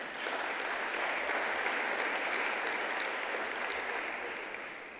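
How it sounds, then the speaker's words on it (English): Sustained, even applause from a conference audience at a ministerial summit, a dense wash of clapping that holds steady and eases slightly toward the end, with no talking over it. "big ups, a round of applause to our technical team."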